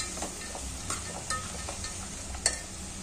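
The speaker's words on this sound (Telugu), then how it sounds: "just fry in the oil 1 or 2 minutes" Carrot and tomato sizzle in hot oil for upma while a spoon stirs the pan, a constant bright hiss broken by soft scraping clicks, close and without talk.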